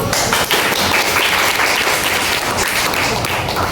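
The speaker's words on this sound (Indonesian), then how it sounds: "Tepuk tangan dulu." Applause from a class of seventh-grade students during a science lesson, loud and continuous, with dense clapping that holds steady across the whole stretch and no talk over it.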